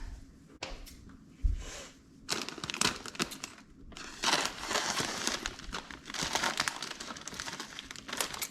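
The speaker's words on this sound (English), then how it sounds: "put a thick layer of the shavings down first" Dry, crinkly rustling and scattering as wood shavings are poured and spread into a chick brooder, in bursts with short pauses, close by and fairly quiet.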